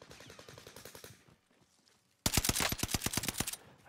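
Rapid video game gunfire rattles off in quick bursts, a moderate volley, a brief pause, then a louder, denser string of automatic shots close up.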